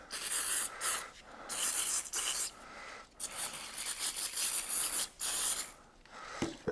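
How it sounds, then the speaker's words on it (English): Aerosol brake cleaner is sprayed onto an oil-contaminated car airflow meter in several close, loud hissing spurts separated by short breaks. "Bit of brake cleaner."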